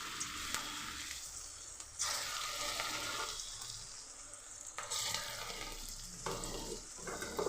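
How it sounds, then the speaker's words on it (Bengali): Onion fritters (piyaji) sizzle briskly in hot oil, with stirring and turning that makes the crackle swell and ease in several bursts. The frying is close and dominant, and no one speaks. "এভাবে সব পেঁয়াজিগুলো একইভাবে ভেজে নেব।"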